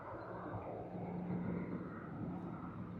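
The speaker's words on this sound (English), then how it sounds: "Airbus A330-200, registered as VHEBD, landing on runway 34L" Qantas Airbus A330-200 jet landing on runway 34L at Sydney Airport, a steady broadband engine roar heard at a distance, constant in level throughout without voices.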